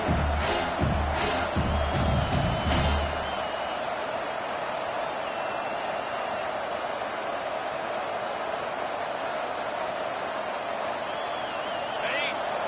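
A home crowd at a college football game roars as the defense works to get off the field on third down, a broad sustained din with faint whistles, heard under a commentator's voice at the start.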